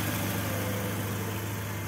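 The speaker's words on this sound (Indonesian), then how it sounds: "Ini untuk mesin istimewa ya, halus banget, hampir tak terdengar ya." A Mazda Familia Lantis 323 engine idles smoothly and quietly, a steady low hum with no talking.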